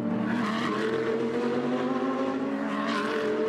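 Mercedes and Audi GT race cars battle on the Long Beach street circuit in California, their engines roaring loud and continuous with a steady harmonic drone that swells slightly near the end.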